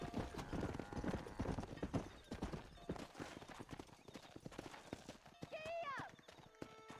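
Horses in the video game Red Dead Redemption trot with rhythmic clip-clop hoofbeats under people talking, and a brief whinny rises near the end.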